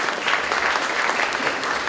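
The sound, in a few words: applause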